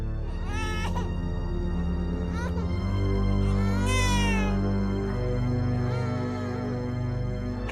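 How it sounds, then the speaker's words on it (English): An infant crying in a building's hallways, with high wavering wails and sobbing cries rising over a steady low hum, and a louder drawn-out wail near the middle. "the sound of the crying came from behind her"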